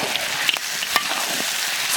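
Pork ribs are stir-fried in a wok with hot oil, scallion, ginger and peppers, giving a loud, close, continuous sizzle with scattered scraping and stirring ticks from the spatula.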